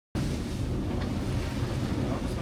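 Strong wind roars across a sailboat at sea with waves rushing alongside, a loud, dense, continuous blast of wind noise that starts abruptly and never lets up.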